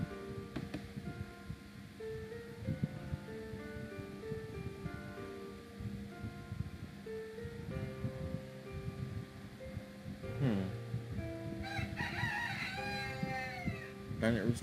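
Rooster crowing in the Titanic Mystery game on Nintendo DS, repeated synthetic crow calls over game music and effects, with a louder burst near the end.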